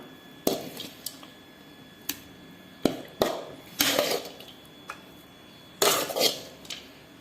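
A spoon clinks and scrapes against a bowl while vegetables are stirred into idli batter for kara kuzhi paniyaram, irregular sharp knocks spaced a second or so apart over quiet background.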